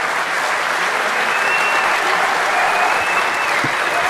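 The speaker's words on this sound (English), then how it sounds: "Let's hear a round of applause." Audience at the DEF CON 20 hacking conference closing ceremony applauding, a dense and steady roar of clapping from a large crowd that fills the whole stretch at high volume.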